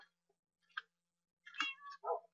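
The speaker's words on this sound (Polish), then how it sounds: "O, kotek jest." Meowing from a cat in the video game Minecraft, several short, clear mews at low volume scattered across a quiet background, with a faint steady hum underneath.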